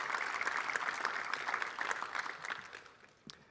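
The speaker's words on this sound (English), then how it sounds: "Please give them all a round of applause." Audience applause at an awards ceremony, a short burst of clapping that starts fairly strong and fades away over a few seconds, moderately distant and fairly quiet.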